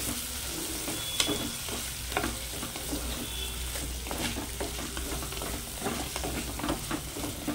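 Raw banana pieces and tomatoes cooking together in a clay pot for a pulusu, with a steady close sizzle and occasional stirring scrapes running throughout.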